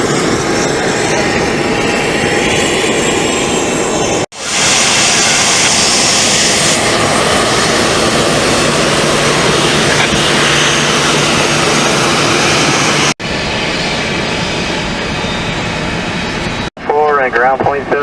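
A Boeing 747 jet at CVG airport, its engines giving a loud, continuous roar across the ramp during pushback while people talk over it.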